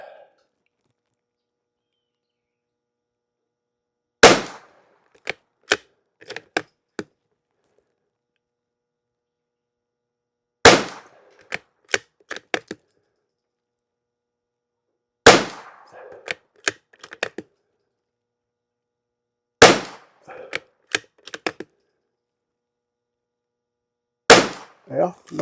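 Rifle shots fired with CCI SV subsonic ammunition, unlubricated, arriving as five sharp, well-spaced reports, each followed by a few quick mechanical clicks and clatters, with near silence in between.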